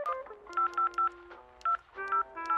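Telephone keypad tones are dialed in a quick sequence of short, distinct beeps with brief gaps between them, clear and fairly quiet with no voices.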